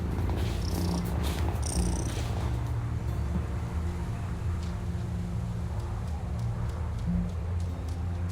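A cat in the video game Wylde Flowers purrs steadily and close, a continuous low rumbling that lasts throughout, with a few faint game sounds near the start.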